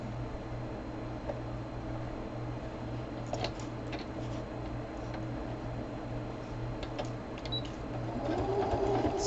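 A sewing machine steadily stitches crumb fabric on a quilt, a continuous close hum with fine ticking running throughout, small clicks scattered over it and a slightly louder burst near the end.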